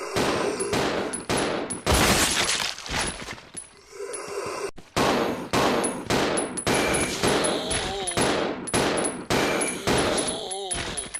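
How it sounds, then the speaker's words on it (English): Rapid custom 1911 handgun shots fired at zombies in Resident Evil Zero, loud sharp cracks in quick bursts with brief pauses, metallic clinks between volleys and game effects throughout. "Now let's test the custom 1911 on a zombie."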